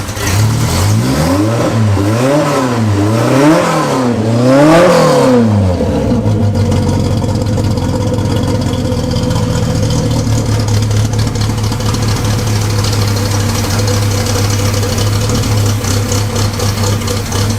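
A Ford Pinto's 2.3-litre four-cylinder is revved several times in quick rising and falling sweeps, then drops to a steady idle, close and loud with no voices.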